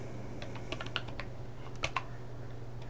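A password is typed on a computer keyboard as a few soft, scattered key taps over a steady background hum, fairly close, with no talk.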